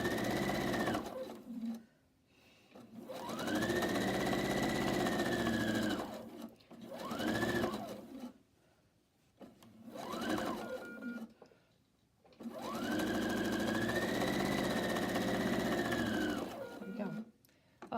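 A sewing machine stitching quilt blocks runs in close, loud bursts of rapid mechanical whirring, several seconds each, separated by short pauses, with a voice talking faintly in the gaps.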